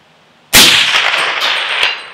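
A suppressed rifle with an 8-inch barrel hits a steel plate with one loud, sharp metallic clang. The ring decays over about a second and a half, with a faint second tap near the end.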